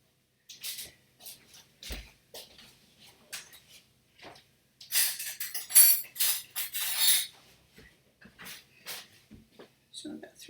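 A tablespoon clinks and scrapes against a jug while aquafaba is spooned in for vegan mayonnaise, light scattered metallic taps and a brief louder burst of clatter, heard amid talking.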